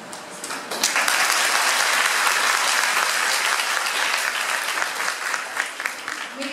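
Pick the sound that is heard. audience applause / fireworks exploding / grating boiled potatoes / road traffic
audience applause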